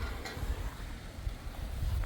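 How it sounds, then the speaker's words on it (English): Strong outdoor wind buffets the microphone on a windy day, making a steady low rumble with gusty swells throughout, loud and close, with no voices. "A little bit windy here."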